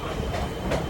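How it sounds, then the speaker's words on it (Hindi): Steady, dense rumble of a train running on rails, heard from inside the carriage, with faint rhythmic clatter under a continuous roar and no talking. "सो गाइस अभी हम लोग ट्रेन में हैं."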